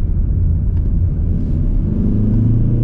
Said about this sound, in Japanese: ちょっと前が空いた時には加速も試してみましょうかね。